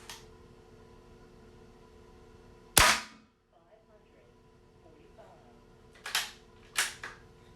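Umarex 850 M2 CO2 air rifle firing at targets, one sharp loud crack followed a few seconds later by two fainter snaps, over a quiet background hum.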